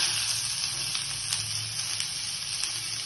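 Onions sizzle in oil in an iron kadai, giving a steady, close frying hiss that does not let up, with faint crackles and no voices.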